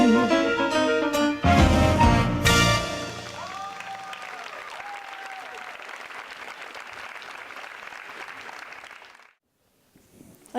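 Applause at a school holiday show after a Christmas song: the musical ending rings out first, then sustained crowd clapping builds and carries on until it cuts to near silence.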